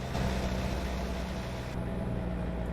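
A truck engine in American Truck Simulator labouring up a steep hill at night, a steady loud low drone with a constant deep hum throughout, no pauses or gear changes.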